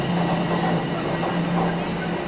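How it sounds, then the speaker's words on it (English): A train pulls into a platform at Union Station in Toronto, a steady loud rumble of rail cars rolling in with faint clattering wheels, filling the whole stretch without any voices. "And here comes my train."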